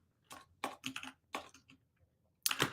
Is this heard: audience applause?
no